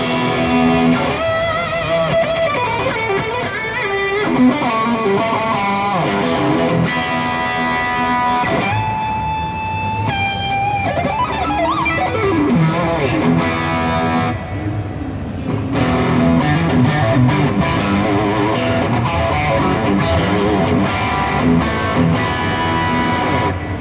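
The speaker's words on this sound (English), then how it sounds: "A little distortion, yes." An Aristides 060 electric guitar played through distortion rings out in crunchy chords and sustained bent notes, loud and continuous, with crowd noise at a busy trade show in the background.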